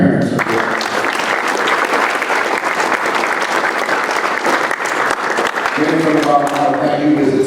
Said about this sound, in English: So, players, if you could give a round of applause for your parents.